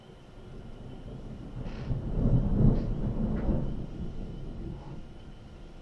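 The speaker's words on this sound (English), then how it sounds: "I can hear the thunderstorm right over top of my house." A deep, low rumble of thunder swells and fades across several seconds, rolling and distant-sounding with no voices.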